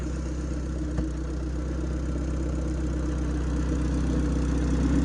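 A boosted Honda Del Sol fitted with a new B18B engine idles steadily up close, its low even drone holding alone with one brief click near the start.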